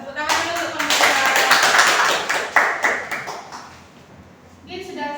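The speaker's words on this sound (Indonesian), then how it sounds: "Tepuk tangan dulu untuk pembicara." A small classroom group claps for a student speaker after a presentation during a micro-teaching lesson. The clapping is a close, lively burst that lasts about three seconds and then thins out, with faint voices underneath.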